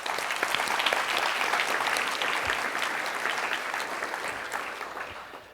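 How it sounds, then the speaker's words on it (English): Steady audience applause at a physiotherapy association's annual general meeting and awards, sustained broadband clapping from a sizeable crowd that holds evenly for several seconds before tapering slightly at the end. "Let's have a round of applause for those people."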